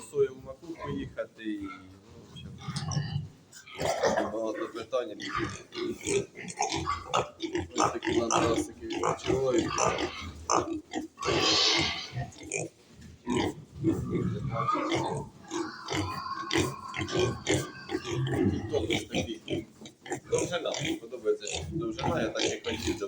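Pigs grunt and snort continuously at close range in a farm pen, with a person talking among them and occasional clanks and shuffling.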